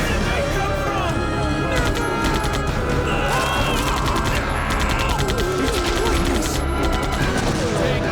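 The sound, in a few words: police gunfire shooting zombies in video game Resident Evil 3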